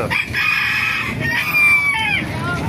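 Small Sebright bantam chickens crow in thin, high calls close by at an animal market, one after another, with clucking underneath.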